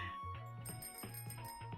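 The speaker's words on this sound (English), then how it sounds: "A loud bike bell chimes behind us" A bicycle bell rings loudly and close behind on a street, sounding as a series of bright, rapid metallic chimes repeated across the moment.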